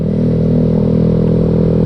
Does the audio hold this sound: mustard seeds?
no